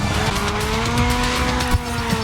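Race car tyres squeal loudly as a car slides and spins out in the racing video game Grid Legends, the skid sustained over a roaring engine with a brief bump near the end.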